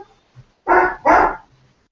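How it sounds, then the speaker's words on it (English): A dog barks twice in quick succession, close and clear, after a faint short yip, with quiet surroundings. "Where come from the dog?"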